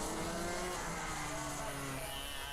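TAG 125 racing karts in a heavy-class championship final, their engines droning steadily with a buzzing, wavering whine throughout while a commentator talks over them.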